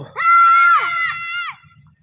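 A single loud, high-pitched human shout to scare birds rings out for over a second, then fades into faint murmuring.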